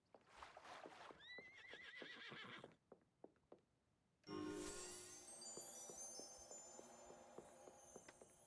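Two horses whinny in the Star Stable Online video game, the first with a rising, bubbly neigh, then a pause with a few soft hoof clops, followed by a second loud, long, ringing whinny.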